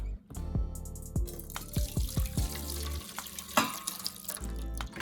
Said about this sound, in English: All I'm gonna do is pour that in our bowl.